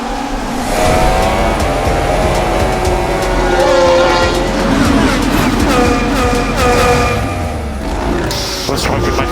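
Formula 1 race cars roar and rev at a race start, engine tones rising and layering continuously over a loud background, with voices talking over the engine noise.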